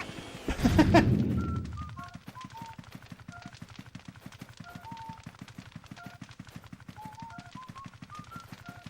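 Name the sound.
bombs exploding in the video game Luigi's Mansion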